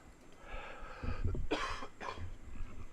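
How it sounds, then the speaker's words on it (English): A single dry, raspy cough close to the microphone, followed by a shorter throat-clearing sound, with no speech. "There's that lovely cough. It's a little dry now, right?"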